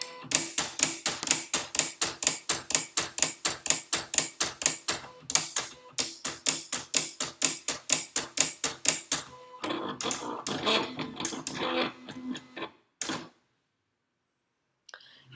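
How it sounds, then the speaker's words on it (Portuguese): Cutting plotter blade adjusting and making a test cut on paper, a fast regular train of sharp mechanical clicks and taps, then a busier rattling stretch, a final click and silence; close and clear, no talking. "Assim que eu clicar, a lâmina fará o ajuste automático e vai fazer o corte."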